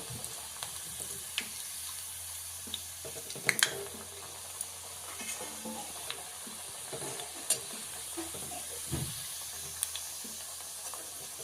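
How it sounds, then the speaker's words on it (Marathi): Cabbage vadi frying in hot oil gives a quiet, continuous bubbling sizzle, with scattered sharp pops and light clicks throughout and no talk. "वडी ब्राऊन होईपर्यंत आपण चांगली तळून घ्यायची"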